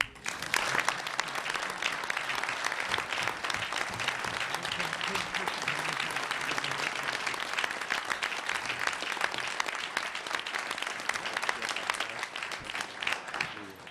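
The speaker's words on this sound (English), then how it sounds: "All in favor, please applaud." Steady, fairly faint applause from attendees at a CUNY Board of Trustees meeting continues evenly for over ten seconds, many hands clapping together at a distance without a break.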